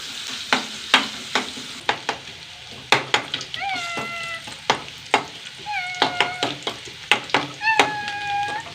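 Onions frying to brown in a pan with a soft sizzle and repeated scraping stirs, while a cat meows several times nearby.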